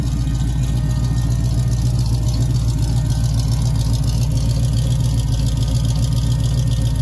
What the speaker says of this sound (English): That's the fuel pump whining